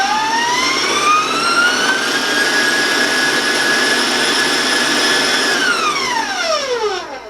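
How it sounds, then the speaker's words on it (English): An electric mixer runs at high speed, blending a batter of vanilla and sugar-free maple syrup for sugar-free pizzelle cookies. Its loud, steady whine rises in pitch, holds, then winds down near the end, with no one speaking. "And now I'm going to raise my mixer speed,"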